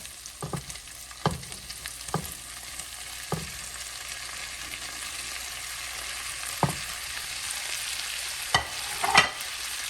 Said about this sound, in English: Now we're going to return our shrimp back to the skillet.